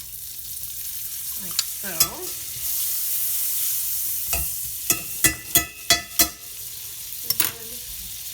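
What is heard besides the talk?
butter and sage leaves sizzling in a pan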